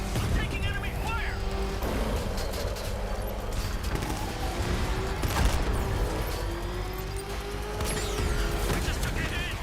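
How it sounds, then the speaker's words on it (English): Scattered gunfire in Batman: Arkham Knight, overlapping bursts within a constant rumble of vehicle and battle noise, with a voice talking over the din. "I'm taking enemy fire."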